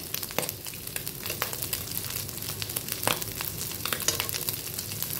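Skinless pork belly frying in oil in a pan, a close, steady crackling sizzle with scattered sharp pops and spatters throughout.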